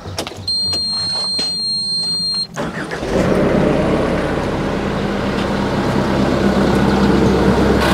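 A new mini excavator's engine turns over with a short beeping warning tone and starter whir, then catches and settles into a loud, steady diesel idle, close by and alone.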